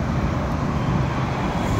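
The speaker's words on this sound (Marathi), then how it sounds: "ह्या ठिकाणी ट्रॅफिक जाम होतो" Road traffic at Chandni Chowk in Pune during a jam, a steady dense rumble of vehicles close by with no voices.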